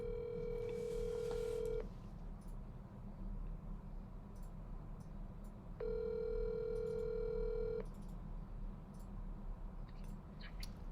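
Telephone keypad tones sound as a call is placed in to a sports talk show hotline, two sustained steady tone bursts a few seconds apart over a constant low background hum.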